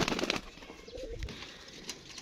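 Red Toga pigeon, a fighting tail-type bird, gives a few soft cooing notes close by, with faint flutters and background noise between them.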